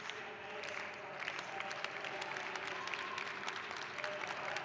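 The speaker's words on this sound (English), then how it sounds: "starting some claps for her" Track and field crowd at a Summit League triple jump, clapping along for a jumper's attempt: a fairly faint, steady patter of many hands over the hum of an indoor arena.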